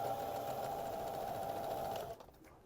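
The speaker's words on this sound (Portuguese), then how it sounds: "Retrocesso para não desfazer a costura e costurar normal." A sewing machine runs steadily for about two seconds while stitching a dress seam with a backstitch, a loud continuous whir close by that stops abruptly, leaving a quiet moment.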